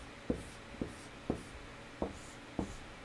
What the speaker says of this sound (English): Well, let's draw Nine's arms first.